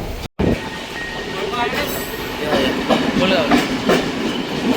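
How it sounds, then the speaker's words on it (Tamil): A train runs along a railway line through the Potuhera area, a steady rumble with faint rail clatter and some squeal, heard amid ambient noise with a brief dropout near the start. "பொத்துகர பகுதியால் தான் வந்து இப்போ புகையிரதம் வந்து போய்கொண்டிருக்கு"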